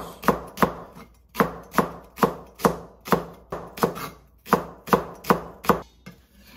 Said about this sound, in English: Green onion should be cut into diagonal like this.